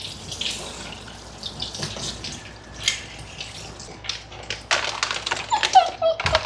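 A Shih Tzu mix whimpers in short, thin cries during grooming, with running water from a tap in the tub and a groomer's soft voice at times; cries grow more frequent near the end.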